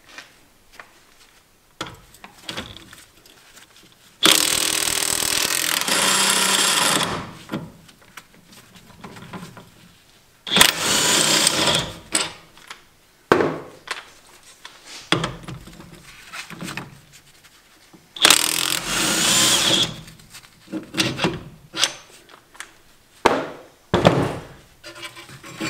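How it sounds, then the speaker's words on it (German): Two brake caliper bracket bolts are undone with a 21 mm socket on a Mercedes Vito during a brake disc and pad job. Loud sustained bursts of whirring, rattling noise are separated by clanks and knocks close by. "Dafür schraubt man mit einer 21er Nuss die beiden Schrauben hier raus."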